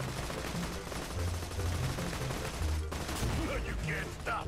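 Vehicle-mounted guns fire from a van in a Borderlands game, a quiet steady rattle of shots under engine rumble and game noise, with a slight pause midway.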